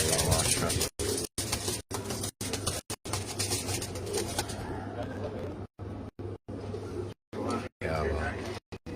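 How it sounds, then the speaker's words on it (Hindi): Caged pigeons coo softly beneath someone talking nearby, with the recording cutting in and out in short gaps. "ये कबूतर अपने घर का है।"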